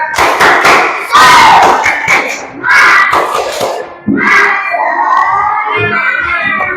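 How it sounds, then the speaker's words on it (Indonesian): A class of children in an Indonesian school lesson does a rhythmic spirit clap, loud patterned claps and thumps mixed with the children's shouted chanting voices in bursts. "kita tepuk semangat dulu. Tepuk semangat"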